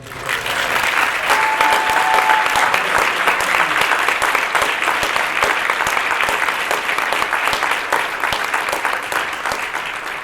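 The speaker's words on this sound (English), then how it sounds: "Can we give them another round of applause?" An audience applauding a school percussion ensemble at a music conference, dense clapping sustained for about ten seconds with no one speaking.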